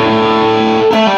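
Electric guitar played through a Beyond Tube Preamp 2S with the gain at maximum, a loud, dense, heavily distorted sustained chord ringing out with a brief change near the end.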